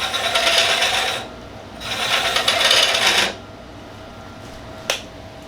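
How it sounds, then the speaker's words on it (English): Wood lathe spinning a pen blank as plunge cuts are made, two bursts of gritty cutting noise over the motor hum, then a sharp tap. "now I'm just going to make plunge cuts on this one"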